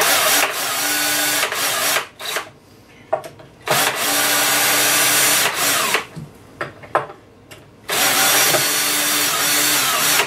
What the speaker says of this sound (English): Yes, I am using a drill.